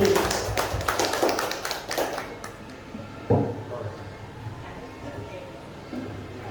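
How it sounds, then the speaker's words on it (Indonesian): An audience at a talk breaks into a short burst of clapping, dense for the first couple of seconds and then thinning out into a few scattered claps. "Beri aplaus sekali lagi."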